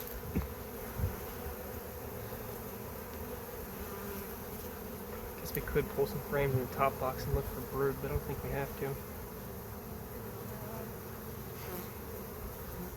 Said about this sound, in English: Got a lot of bees up here.